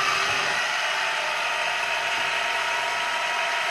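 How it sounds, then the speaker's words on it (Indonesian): A vacuum pump evacuates the pipes of a Gree 2 PK split-type air conditioner during installation, giving a steady loud mechanical drone with a fast rattling pulse, close and continuous with no talking. "Oke, selanjutnya proses vacuum."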